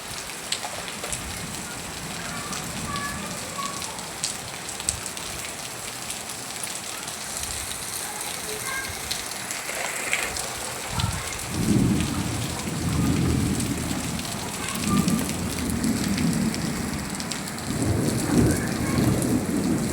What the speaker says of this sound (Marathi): 1 तासभर हा कंटिन्यू पाऊस तसाच चालू होता